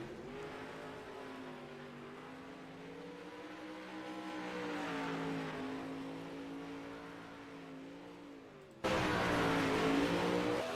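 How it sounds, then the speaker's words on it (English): Two race cars run warm-up laps on a track before a feature race, a continuous engine drone that swells and shifts pitch as they circle, then jumps suddenly louder near the end as a car passes close. "So 2 cars have taken to the track."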